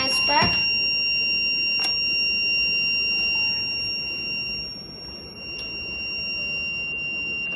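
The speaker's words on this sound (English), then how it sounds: "Now the buzzer is switched on." A temperature monitor's buzzer alarm in a hydroponic garden sounds in a few sharp tonal beeps over steady background noise, with a voice nearby.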